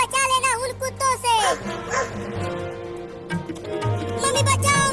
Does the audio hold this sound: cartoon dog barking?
yes